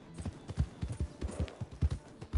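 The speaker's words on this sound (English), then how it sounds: "Now that's a real beaut of a horse." Horse hooves clip-clopping in Red Dead Online, a steady run of close, distinct hoofbeats in a quick walking rhythm, heard alone.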